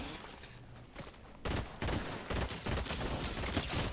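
Gunfire in a Fortnite match, a quick run of loud shots in bursts over a few seconds with some distant fainter pops before, no talk heard.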